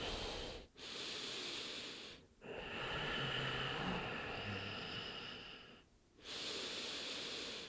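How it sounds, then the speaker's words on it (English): Slow, deep breathing during a yoga child's pose, long airy inhales and exhales close to the microphone, each breath separated by brief quiet pauses. "Breathing into the back of the body, full inhales and exhales."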